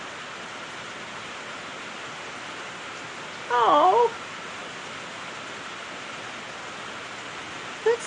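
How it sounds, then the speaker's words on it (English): Heavy rain drumming on a metal roof, a loud, unbroken wash of hiss that fills the whole clip, with a brief voice cutting in near the middle. "There's a lot of rain falling right now, but the metal roof amplifies the sound."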